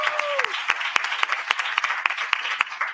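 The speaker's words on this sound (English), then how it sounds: "let's clap for Dr." Sparse, uneven hand claps from a small gathering at a panel event, sharp individual claps spaced irregularly, with a brief faint tone at the start.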